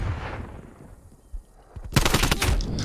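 Rapid automatic gunfire from Black Ops Cold War on the Nuketown map, a quiet stretch followed by a loud, close burst of sustained shooting.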